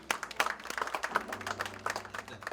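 A church congregation claps together during a wedding ceremony, a steady patter of many hands with a strong rhythmic beat, moderately close, with a low sustained tone underneath.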